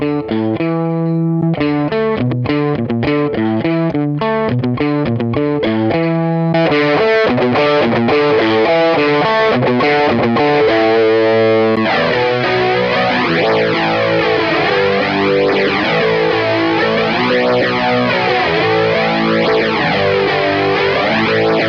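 Electric guitar played through a Valeton GP-5 with distortion and modulation engaged, loud and continuous: choppy rhythmic chords at first, then sustained notes swirling with a sweeping chorus-like wash.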